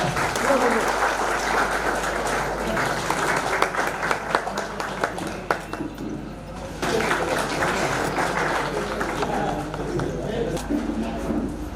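An audience claps steadily at a journalists' association honour ceremony for mothers, with voices talking over the applause and a brief lull partway through before the clapping resumes.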